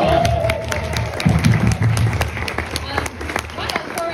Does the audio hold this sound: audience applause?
yes